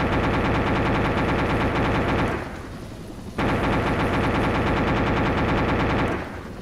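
Rapid, loud machine-gun fire from an AH-1W Cobra helicopter in a video game. It runs as a long continuous burst, stops briefly, then comes back as a second sustained burst.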